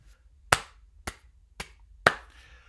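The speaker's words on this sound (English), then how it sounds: "That's a small little clap for the GOAT" Four small, sharp single claps ring out alone, evenly spaced about half a second apart, each crisp and close in an otherwise quiet room.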